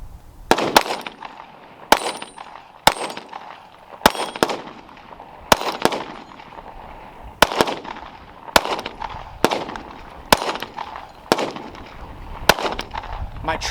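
Glock 43X pistol fired repeatedly, roughly a dozen sharp, loud reports spaced about a second apart with ringing echo between shots, close to the shooter.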